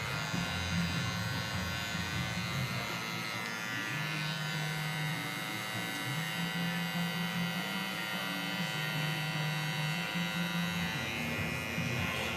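Electric hair detailer trimmer shaping a man's neckline during a choppy-style haircut: a steady close buzzing hum running throughout, with slight shifts in pitch as the blades move against the neck, no talking.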